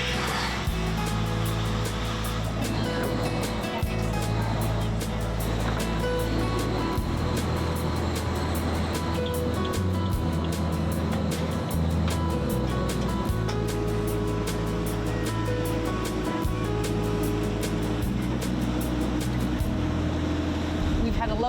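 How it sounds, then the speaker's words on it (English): A boat engine drones steadily out on a bay, a loud, continuous mechanical hum with shifting low tones, while people talk over it. "we'll get the boat running so that we can get out on the water"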